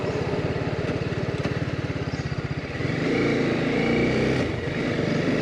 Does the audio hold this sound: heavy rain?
no